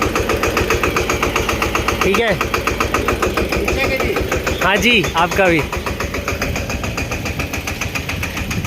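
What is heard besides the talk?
tractor engine idling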